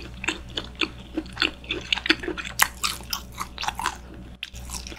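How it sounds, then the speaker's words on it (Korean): Close, crisp crunching bites and chewing of grilled pork belly (samgyeopsal) with a crackly crust, a steady run of separate bites and chews with wet mouth sounds and no talking. "우선 삼겹살을 그냥 한번 먹어보도록 하겠습니다"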